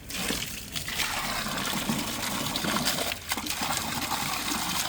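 Water gushing from the opened tap of a newly installed Abyssinian well beside a finished cabinet, a strong, continuous splashing flow close by with brief dips and surges, no talk.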